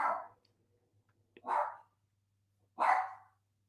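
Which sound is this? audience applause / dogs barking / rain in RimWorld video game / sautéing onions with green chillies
dogs barking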